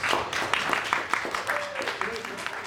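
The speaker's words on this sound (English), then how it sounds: "Give him a round of applause for that" Audience round of applause, a steady wash of many hands clapping throughout, with a faint tonal sound and possible voices mixed underneath.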